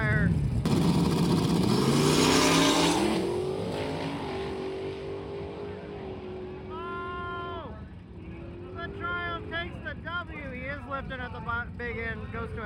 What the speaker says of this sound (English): We have Devin's Mustang and we have Cletus coming up the pass right after him